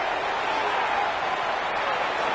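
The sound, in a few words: crowd applause in a video game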